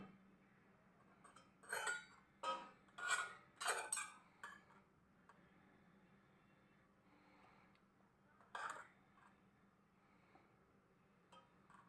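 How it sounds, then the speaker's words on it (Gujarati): A spoon clinking against a small bowl while mixing dry spices, a quiet cluster of rapid metallic taps followed by a pause and one more short burst. "ડ્રાય મસાલા વાટકીમાં મિક્સ કરી લેશું"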